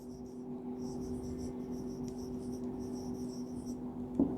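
A teacher writes on a board in a classroom, light scratchy strokes in short rhythmic bursts over a steady low electrical hum, with one brief sharp knock near the end and no talking.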